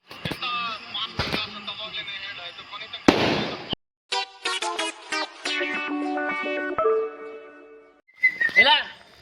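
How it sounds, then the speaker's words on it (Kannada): Firecrackers set off outdoors during a street celebration of a cricket win. Sharp bursts pop out between whistling, warbling tones and voices, loud and close at times, then fading between blasts. "ಪಟಾಕಿ ಹಚ್ತಾವ್ರೆ ನಮ್ಮ ಮೈಕಳು."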